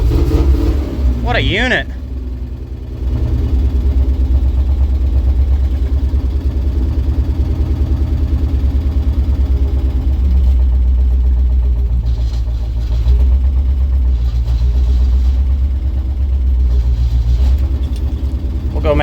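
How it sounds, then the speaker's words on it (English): A 1941 Ford Super Deluxe car engine cranks with a brief burst, then settles into a loud, steady low idle close by that runs throughout, with a short spoken comment near the start. "Listen to this thing fire up though."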